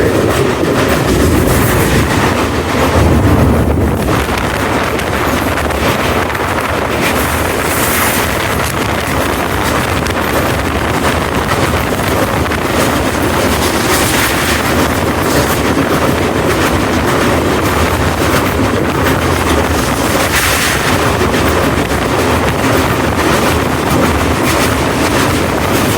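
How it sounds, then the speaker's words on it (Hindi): A passenger train crossing the Bogibeel rail-cum-road bridge over the river in monsoon season makes a loud, steady roar of wheels and carriages, with rhythmic clatter and wind buffeting throughout. "बोगीबिल नदी के ऊपर ये बना हुआ रेल पुल है, रेल कम रोड पुल है, जिसे अभी हम लोग क्रॉस कर रहे"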